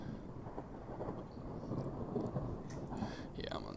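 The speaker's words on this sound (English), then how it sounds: "Thunder rumbles outside." A low, continuous rumble of thunder from outside, used as an effect in a text adventure video game, rolls on at moderate level for the whole stretch without a clear crack or peak.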